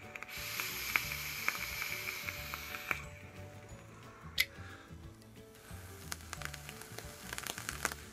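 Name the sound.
vape mod coil sizzling as it fires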